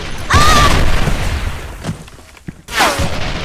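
Loud explosions in the online shooter Soldier Front 2, two heavy booms with rumbling tails about two and a half seconds apart, with a brief softer thump between them.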